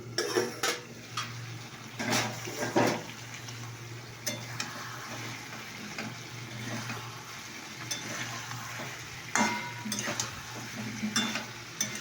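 Pointed gourd (potol) frying in a pan while being stirred, giving a steady low sizzle with repeated scraping and clinking of a utensil against the pan, close and moderately loud, with no talking.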